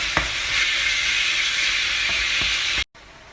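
Chicken stir-fries hard over high heat in a wok for a crispy Thai dish, a loud continuous sizzle and hiss with a few soft scrape knocks before it abruptly cuts off.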